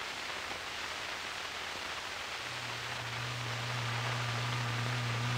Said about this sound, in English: The hum of the generator signals the approach of the laboratory storm.